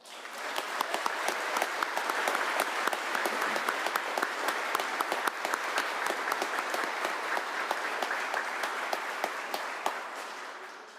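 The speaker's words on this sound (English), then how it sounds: "If we could all give them a round of applause." A large audience at the Michigan Senate Memorial Day Service gives a steady round of applause, a dense, even wash of many hands clapping that holds for about eleven seconds at moderate volume in a big hall.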